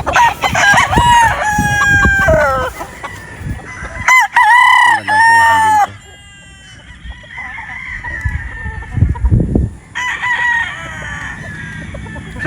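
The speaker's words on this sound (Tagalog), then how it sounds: "konti lang dito yung mga manok nandito sa loob ng Green Country Game Farm" Several gamefowl roosters crow loudly and repeatedly, overlapping one another, with hens clucking in between, close by on a game farm.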